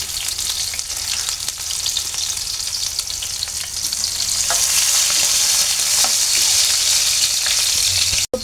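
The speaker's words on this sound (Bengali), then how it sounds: "পেঁয়াজ মরিচটা ভাজা হয়ে গেছে" Onion and chili frying in oil in a pan, a dense, loud close sizzle with intermittent stirring scrapes that grows stronger midway and ends with an abrupt clatter, with no speech.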